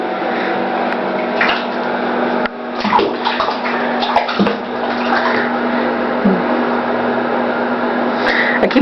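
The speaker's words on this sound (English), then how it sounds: "I keep thinking he's in distress when I hear all that splashing." A ferret splashes and scrabbles in bathtub water, with irregular sloshes and wet thumps over a steady background hum, close and fairly loud.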